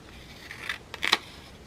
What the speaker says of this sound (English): This needs to be cut, and I'll just use my scissors.